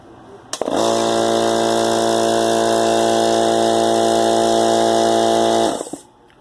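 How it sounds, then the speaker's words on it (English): Small Harbor Freight air compressor starts with a click and runs steadily, a loud continuous motor drone with a strong harmonic hum for about five seconds before cutting off. "Wonderful little compressor."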